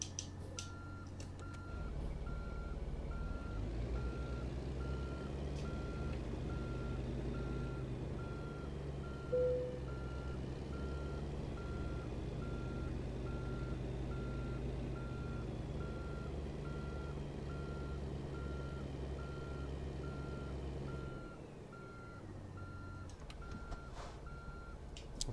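A truck parking in the video game American Truck Simulator sounds a steady train of evenly spaced reversing beeps over a low, continuous diesel engine drone, which cuts off near the end.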